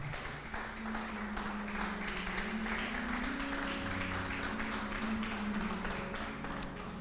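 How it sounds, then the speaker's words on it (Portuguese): A church congregation applauds steadily as people sit down, a soft continuous patter of many hands at some distance, with faint tones and murmurs underneath. "Aplauda Jesus quando você se assentar"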